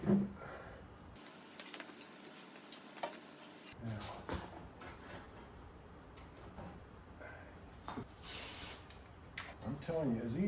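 Silicone spray hisses in short bursts onto transaxle parts during a 2013 transaxle rebuild on a wagon, a brief spray near the end amid workshop clatter and handling noises.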